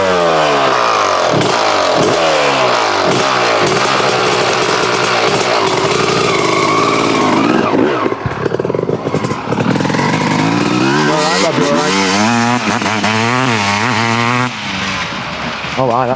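A Suzuki RM250AF alloy-framed two-stroke motorcycle engine runs loudly and close, revving up and down repeatedly in rising and falling sweeps with crackly idle between blips, and a voice briefly speaks over it.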